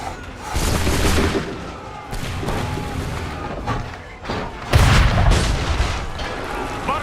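Heavy gunfire and booming explosions from the Assassin's Creed 3 finale battle, several loud bursts and blasts in irregular succession, with a brief spoken remark underneath.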